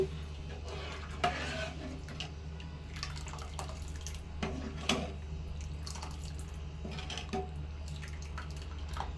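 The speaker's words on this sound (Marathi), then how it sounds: "यामध्ये थोडंसं पाणीही ॲड करूया। सर्व मिक्स करून घेऊया।" Dal being stirred in a pot with a little water added during home cooking, giving soft wet clinks and sloshing scrapes at an irregular pace over a steady low hum, up close, with no talking.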